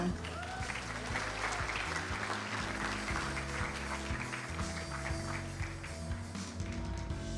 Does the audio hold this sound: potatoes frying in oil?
no